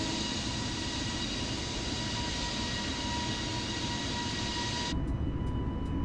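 A jet airliner takes off in Microsoft Flight Simulator with a dense, constant engine roar that holds steady and then shifts abruptly near the end.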